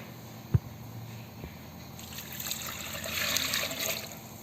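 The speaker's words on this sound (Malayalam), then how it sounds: "എന്നിട്ട് കുറച്ച് വെള്ളം ഒഴിച്ച്" Water poured from a vessel over chopped yam and carrot pieces for sambar, a short splash followed by a soft trickling pour that swells over a few seconds, close and fairly quiet.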